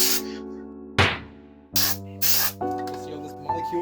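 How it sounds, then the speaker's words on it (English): Compressed air sprays in loud bursts into a PS5 console during deep cleaning, with two or three hissing blasts separated by short pauses over a steady background hum. "this is my first time spraying my PS5 with dust. I mean, with air."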